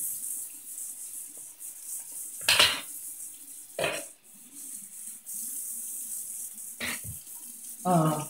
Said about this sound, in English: So you wanna first wash your hands.